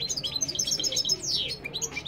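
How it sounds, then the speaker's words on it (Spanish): Goldfinches and canaries sing together in rapid, bright, overlapping chirps and twitters, fairly faint and continuous, with no talking. "que escuchéis pajaritos cantando en nuestra cara, amigos"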